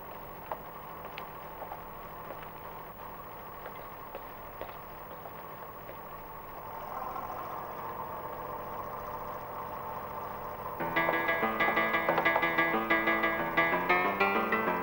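A boat engine runs steadily at sea, a continuous mid-low drone that rises in pitch and loudness partway through, as if revved higher, with a harsher tone in the final seconds.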